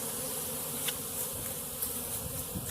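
Swarming honeybee colonies hum in a dense, steady buzz, with individual bees zipping close past now and then over the continuous drone.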